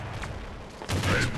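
Gunfire from Counter-Strike on the map The Town, a P90 in play: a few close, sharp shots with brief echoes, the loudest burst arriving late after a quieter stretch.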